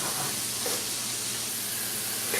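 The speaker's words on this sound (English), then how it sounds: "We're going to fry this up until all the pieces are about halfway, 3/4 of the way cooked." Chicken pieces frying in a pan for keto kung pao chicken, a dense, steady hiss of sizzling oil running evenly throughout at close range.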